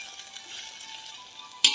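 Pad thai rice noodles are stir-fried in a wok, turned with a spatula, giving a steady close sizzle and frying hiss that ends in a sharp scrape of metal against the pan.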